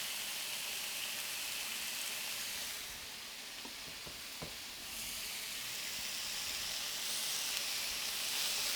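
Meat searing in a hot pan seasoned with rock salt and cracked black pepper, giving a steady, dense sizzle with a few faint clicks and knocks of utensils partway through.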